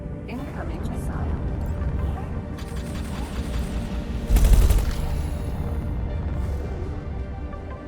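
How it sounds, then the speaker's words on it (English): A missile attack in the space game X4: Foundations, with a loud burst of impact near the middle over a steady rumbling, clattering battle mix, while someone talks over it. "Incoming missile."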